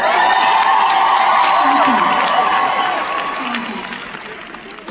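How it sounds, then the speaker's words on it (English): A live comedy show audience claps and cheers, a dense loud wash of applause with whoops that gradually thins and fades over several seconds, with scattered voices in the crowd. "thank you for the clapping."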